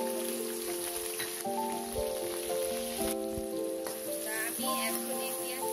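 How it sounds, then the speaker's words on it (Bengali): Onion and green chilies fry in hot oil for a shrimp and bottle gourd dish, giving a continuous close sizzle under steady tonal background music. "আমি এখন এই পেঁয়াজ কাঁচামরিচটাকে ভেজে নিচ্ছি।"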